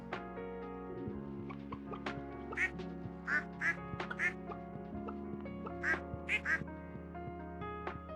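Several ducks quack in a bird coop in the Stardew Valley farming game, repeated short quacks in scattered bursts over a steady layer of soft background music, with faint talk.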